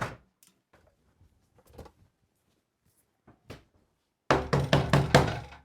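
Someone knocks on a home door: a few scattered, faint taps come first, then a loud, rapid run of heavy banging at the end, close by.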